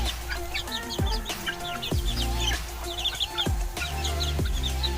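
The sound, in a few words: Kachidax native chickens clucking in a large coop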